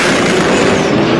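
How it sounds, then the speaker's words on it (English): A drag racing car pass at Sick Week 2024, with tires chattering under power: a brief, very loud, dense roar with a shuddering texture that holds steady for about a second. "tire chatter of a pass"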